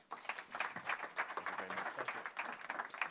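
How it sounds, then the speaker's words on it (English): An audience at a Pennsylvania manufacturing event applauds with steady, dense clapping throughout, fairly faint and distant, with no talk over it. "Let's all give a round of applause to Secretary Davin."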